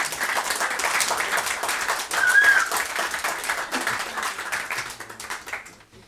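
Applause from a small audience at a tiny concert session, a steady patter of clapping that swells slightly midway and then tapers off, heard fairly faintly.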